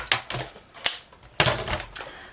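Paper being cut for a vintage scrapbook album, a run of sharp crisp snips and clacks in an uneven rhythm, close and fairly quiet, with no talk.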